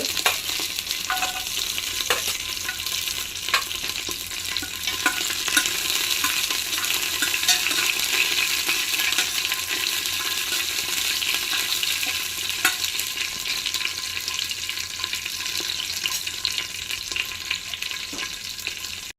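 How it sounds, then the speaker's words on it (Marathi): Cashew pieces frying in hot oil with bay leaves and curry leaves, a continuous close sizzle broken by occasional spoon stirs and scrapes against the pan. "हे थोडे काजूचे तुकडे तळून घेतात"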